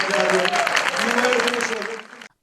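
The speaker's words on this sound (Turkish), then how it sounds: "istersen bir kuvvetli bir alkış" A crowd at a Turkish public event gives a strong round of applause, full and close for about two seconds under a voice, then cutting off abruptly.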